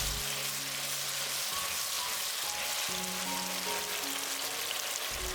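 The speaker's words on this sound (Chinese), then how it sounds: "锅烧热后放油， 把番茄炒出汁水，" Tomatoes frying in oil in a hot pan, a steady close sizzle and crackle running throughout, with background music underneath.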